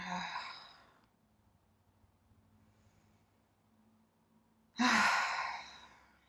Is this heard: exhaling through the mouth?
yes